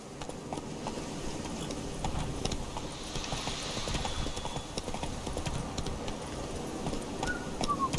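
Roach the horse trots in The Witcher 3, with steady, rhythmic hoof clip-clops at close to moderate distance over quiet game ambience and occasional faint bird calls.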